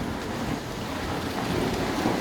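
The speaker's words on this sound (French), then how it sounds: "il pleut là, je me prends de l'eau" Steady rain with strong wind buffeting an outdoor balcony during stormy weather in Cancun, a dense broadband wash of patter and gusts, loud and continuous throughout with no voices.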